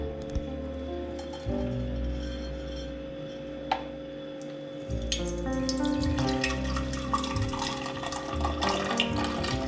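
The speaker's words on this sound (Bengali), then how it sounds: "এটাকে আমি একটা স্ট্রেইনার দিয়ে ছেঁকে নিব।" Blended hog plum juice poured through a kitchen strainer, with running and splashing liquid and a few light clinks of utensils, close up and growing busier toward the end.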